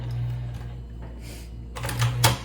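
Back-stitching on a sewing machine through hobo bag fabric: a constant low motor hum, then a louder burst of quick mechanical clatter near the end.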